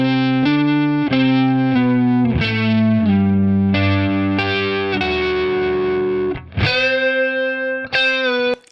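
Electric guitar played through a Line 6 Helix, with a distorted, chorus-tinged lead melody doubled by a harmony line and an octave-lower part, sustained notes changing steadily with no talking.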